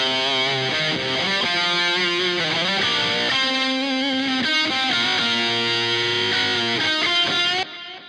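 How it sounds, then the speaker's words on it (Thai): A distorted electric guitar cover is run through an SSL ping-pong dotted delay synced to a 128 BPM tempo. Sustained chords ring out with echoes repeating throughout, loud and dense, ending in an abrupt drop. "ตัวนี้จะเป็นดีเลย์นะครับของ SSL ผมจะใช้แบบดีเลย์ดอทแล้วก็ให้ซิงกับเทมโปของเพลงครับ"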